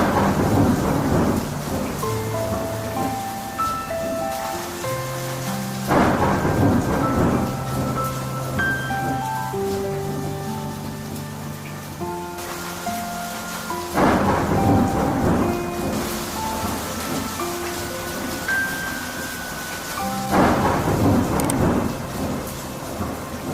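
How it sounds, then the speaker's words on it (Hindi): A cartoon storm breaks in a forest: heavy rain pours steadily while loud thunder rolls in repeated booming bursts every few seconds, with music tones layered through the downpour. "फिर अचानक तेज बारिश शुरू हो जाती है।"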